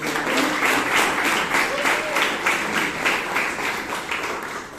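A Toastmasters meeting audience in Bangalore gives steady applause for the meeting's host, a continuous wash of many hands clapping at close range, even in level for the whole stretch.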